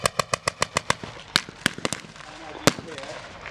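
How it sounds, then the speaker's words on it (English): An original MG08 machine gun fires at a Tankfest display: a rapid run of sharp outdoor reports in a steady rhythm, then scattered single loud bangs under a murmuring crowd and background noise. "These guys have come out and they're manning an MG08 machine gun."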